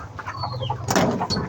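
A hen clucks a few times in a backyard coop near where an egg was just laid, short close calls with rustling and scuffling around them and no speech.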